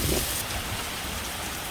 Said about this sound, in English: You can see now it's raining.